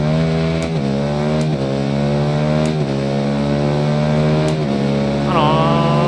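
A 1300cc superbike engine in the racing game Ride 3 revs loudly and steadily, its pitch climbing through several gear-like steps before jumping higher near the end, with no talk over it.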